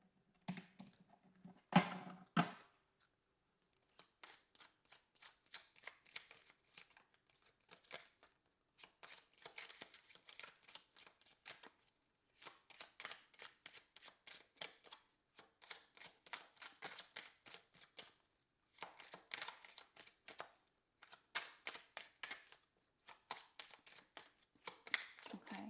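A fortune cookie tarot card deck being shuffled, faint close riffling in repeated bursts of rapid soft clicks separated by short silences, no voices.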